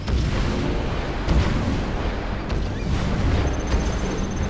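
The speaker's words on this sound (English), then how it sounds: "cruise missile." A cruise missile strike explodes in the real-time strategy game Command & Conquer Generals, a loud, dense, rumbling blast that rolls on steadily for several seconds without a break.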